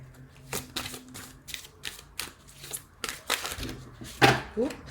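Tarot cards riffle and slap in a quick series of crisp, close bursts, with a short sharp clack near the end.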